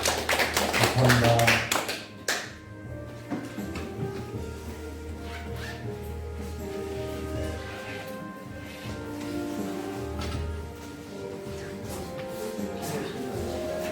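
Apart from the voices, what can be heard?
congregation applause in church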